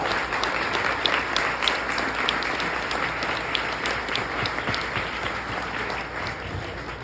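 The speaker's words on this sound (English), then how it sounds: "They deserve a round of applause." A crowd applauds steadily and loudly throughout, a dense wash of many hands clapping at a fundraising event for a sports equipment organization, with no talk over it.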